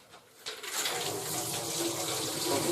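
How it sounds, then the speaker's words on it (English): Dirty water from a brass tumbler cleaning tipped into a sink, a steady close splashing pour that swells after a brief start and runs on continuously. "I'm going to tip the water into the sink, the sturdy water."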